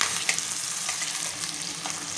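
Spices sizzle and fry in a pan for palak paneer, a steady close crackling hiss with a few brief stirring scrapes and no talk.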